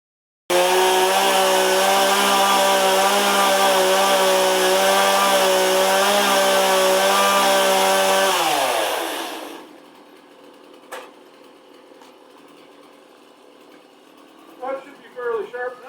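A 30cc Stihl 170 chainsaw cuts lumber in a milling setup, its engine roaring loud and steady at high revs for about eight seconds before winding down to idle, followed by quiet with a few faint knocks.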